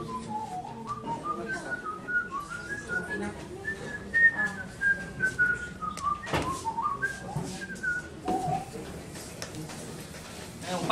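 A person whistles a musical piece, a clear melodic line sliding up and down in pitch with short pauses between phrases, close and fairly quiet, with faint room noise and small knocks in the background.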